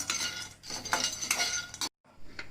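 Raw peanuts dry-roasting in a pan, stirred with a spoon, giving rattling, clinking scrapes in bursts that stop briefly and then resume, close and moderately quiet.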